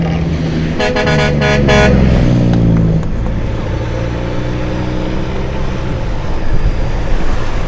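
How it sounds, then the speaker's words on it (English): A road train truck rolls past on a Cape York road in Australia, loud and close, with a deep engine rumble and a few horn-like toots near the start. "That was just a road train."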